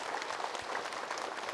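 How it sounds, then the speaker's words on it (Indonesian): A studio audience of women and men applauds a guest ustadz on an Indonesian talk show, a steady, fairly faint wash of many hands clapping with no break. "kita berikan tepuk tangan untuk Ustadz Danu"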